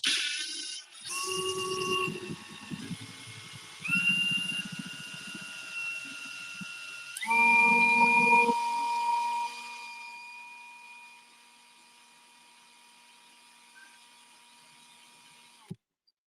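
A power drill bores into metal, its motor whining at steady, shifting pitches through several bursts, then winding down to a quieter hum before stopping.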